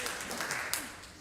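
A church congregation breaks into a brief burst of applause during a service. The clapping is dense and close, with voices mixed in.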